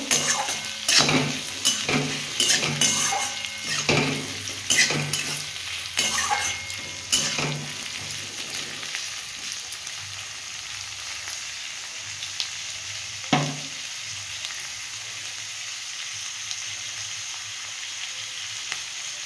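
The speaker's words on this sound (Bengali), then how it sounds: "দিয়ে বন্ধুরা ভালো করে ভেজে নেব" Onion, green tomato and green chilies frying in a pan, a continuous close sizzle with spatula scrapes and stirring knocks, busiest in the first half, with no one talking.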